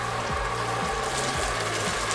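A little water poured into tomato sauce with browned onion and garlic in a Dutch oven, a soft steady trickle close up with faint low tonal sounds underneath.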